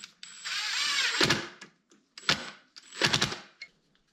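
A cordless drill drives heavy screws into a block of wood: one long whirring run, then two shorter bursts, each ending in sharp clunks as the screw seats. It is close and fairly loud, with no talking.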